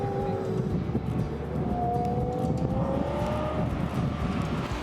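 Sports cars including Mercedes-AMG, Ferrari, Porsche, BMW and Aston Martin run on a racetrack, a steady distant engine drone with rising whines of passing cars, moderately loud and continuous with no talk.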